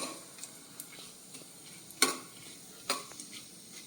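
Whole spices, cinnamon, cardamom and peppercorns, dry-roast in a pan for Konkani veg biryani. The sizzle is faint and close, broken by a few crisp clicks and scrapes of the stirring spoon, with no voices.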